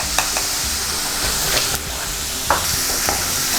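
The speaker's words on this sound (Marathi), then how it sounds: "हे बघा मिरची परतवून झाली आहे" Green chilies sauté in hot oil in a pan for a Maharashtrian spring onion dry vegetable, with a steady close sizzle and a few sharp clinks of a spoon stirring against the pan.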